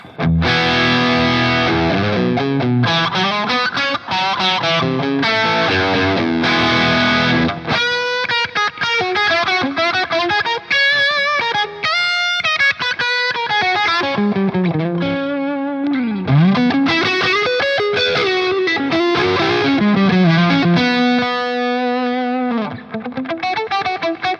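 Overdriven electric guitar through a Dophix Michelangelo Overdrive Plus pedal with all controls at 12 o'clock plays loud, continuous distorted chords and riffs, with a gritty, saturated tone throughout and no voices.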